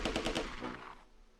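An MG42 machine gun fires a short burst of four quick shots in the Close Combat II wartime strategy game, faint and clipped, trailing off into a fading echo.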